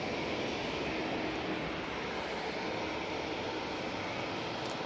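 A Juneyao Airlines airliner in Blossoming Peony livery arriving at Manchester Airport, a continuous broad engine roar that stays steady and fairly loud throughout, with no voices.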